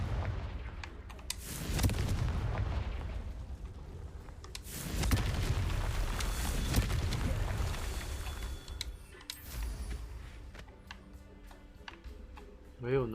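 Confringo explosive spell cast in the Hogwarts Legacy video game, several heavy booming blasts and crackling impacts in bursts, with a player talking over the game sounds.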